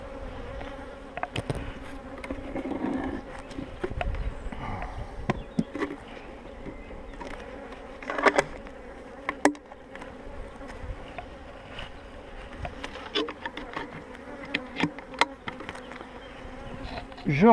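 Honeybees hum at an open hive during a spring inspection: a steady, dense buzzing that lasts throughout, with occasional light clicks and knocks from the hive being handled.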